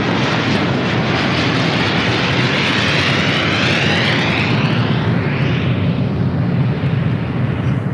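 A jet airliner takes off at LAX, its engines roaring loud and steady as one continuous rumbling blast, with a whining tone sweeping slowly as the aircraft passes and pulls away.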